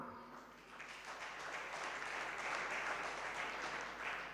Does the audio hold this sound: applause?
yes